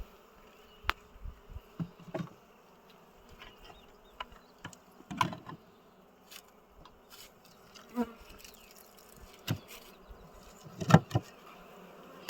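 Aggressive, stinging bees at an abandoned apiary fly close past one by one, their buzzes rising and fading over a quiet background, with no talking.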